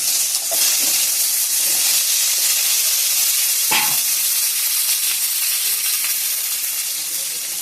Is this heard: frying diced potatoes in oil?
yes